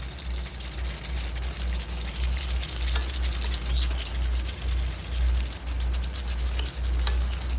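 Two spoons of sour yogurt go into chicken cooking in a pan. A constant sizzle runs under soft stirring and scraping, with a few sharper clicks of a spoon against the pan.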